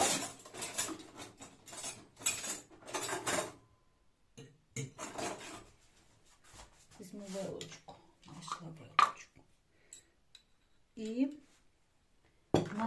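Small spoon clinking against cutlery and dishes while salads are portioned with mayonnaise in a home kitchen, light metallic taps and scrapes in short bursts between pauses, with people talking over it.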